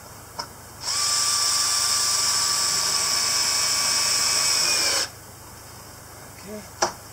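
A power drill drives a screw into wood while building an awning, one continuous high whine lasting about four seconds with a slight pitch drop as it seats, close and loud, followed by a short click.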